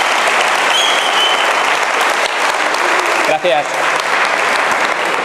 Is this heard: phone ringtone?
no